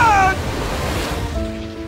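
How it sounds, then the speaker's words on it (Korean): Ocean waves crash in the mobile game Cookie Run: Kingdom, a loud rushing surf wash that swells and then fades, starting under a brief high musical flourish and ending with soft sustained tones. "다시 파도가 몰려온다!"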